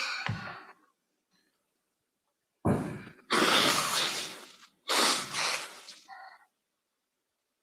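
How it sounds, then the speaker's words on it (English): Two loud, drawn-out nose blows close to the microphone, each a long breathy honk, with brief sniffles around them and silence between. "Excuse me for blowing my nose."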